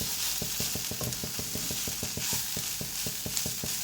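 Drumstick leaf thoran with coconut being stirred in a pan, a steady run of regular scraping strokes about four per second over a soft sizzle, close and unbroken.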